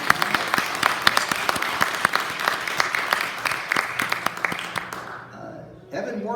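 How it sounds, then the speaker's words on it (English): Audience applause at a film festival Q&A at the London Film Festival, a dense sustained clapping from a sizeable crowd that fades out near the end, with some voices briefly audible. "Let's give them both a big round of applause."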